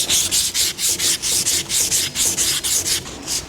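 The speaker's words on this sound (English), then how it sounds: "This is just 3M utility cloth. It's 320 grit. And we will start to sand." A spindle from a 1949 Chevrolet gasser being sanded by hand with 3M 320-grit utility cloth, with steady back-and-forth rasping strokes at a brisk, even rhythm, close and loud, and no talking.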